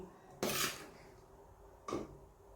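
Spinach curry scooped from a pot into a bowl, two distinct clinks of utensil against metal separated by a short pause, fairly quiet with no talk.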